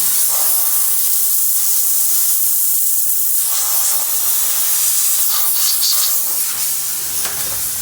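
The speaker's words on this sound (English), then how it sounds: "So you can go ahead and steam your equipment, and it does a great job of helping you clean it quickly" Bigfoot LHR 15 steamer blowing a continuous, loud hiss of steam onto equipment for cleaning, close by, with slight surges and sputters partway through.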